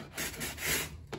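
A few short, dry rubbing strokes of sandpaper against styrofoam, close up, with brief gaps between passes.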